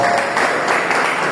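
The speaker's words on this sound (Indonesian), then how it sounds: "Tepuk tangan betul." Church congregation clapping during a Sunday sermon, a brief burst of dense crowd applause filling the room.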